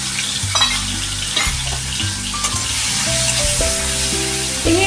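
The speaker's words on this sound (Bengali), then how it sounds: "তেল গরম হয়ে গেছে, এবার নুন হলুদ মাখানো চিংড়ি মাছগুলো আমি দিয়ে দিলাম" Prawns coated in salt and turmeric hit hot oil with a loud, close, continuous sizzle, broken by occasional stirring clatters and bursts of spattering.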